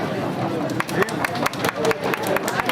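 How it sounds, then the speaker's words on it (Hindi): Crowd of students clapping and calling out at a campus protest, a dense broadband patter of applause with voices mixed in, fairly loud and continuous throughout. "एक बार इनके लिए जोरदार तालियां।"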